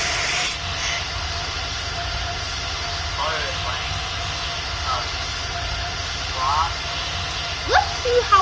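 An E190 jet's engine in the PTFS flight game, a steady low, deep roar filling the background throughout, with a few faint chirps over it.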